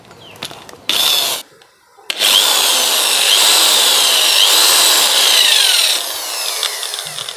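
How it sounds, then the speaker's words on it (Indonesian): A power drill bores a hole into a plastic power socket, giving a high, gritty whirring grind that comes in a short burst, pauses, then runs steadily for several seconds before tapering off. "Jadi ini akan kita coba bor saja."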